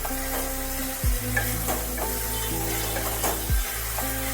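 Potato and eggplant pieces fry steadily in hot oil in a steady close-up sizzle, with two soft knocks of a spoon against the pan about two seconds apart.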